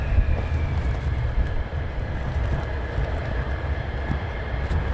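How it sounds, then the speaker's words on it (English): An F-35A fighter jet flies past at RAF Lakenheath in Norfolk, a steady, loud, broad jet roar holding through the whole stretch with no voices. "So the F35 straight through."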